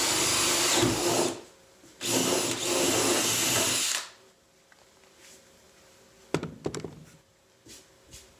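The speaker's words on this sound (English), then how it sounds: "we'll go ahead and drill that out and do the hinges" A power drill bores into an interior door to cut the latch and strike plate recess. It gives two loud, close whirring bursts, then falls to quieter handling knocks and clicks.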